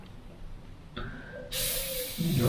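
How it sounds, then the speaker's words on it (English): An airbrush sprays paint along the edge of a shield during custom paint work, giving a soft hiss that starts, then swells into a louder, steady spray near the end. "spray to the edge of it,"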